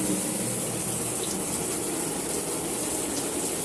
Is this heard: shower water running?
yes